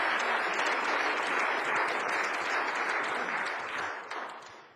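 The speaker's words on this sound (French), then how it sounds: "Vous pouvez l'applaudir, hein?" A room of young people at a 2005 youth democracy quiz tournament final applauds a contestant, a dense, steady wash of many hands clapping together that holds for several seconds, then thins and fades near the end.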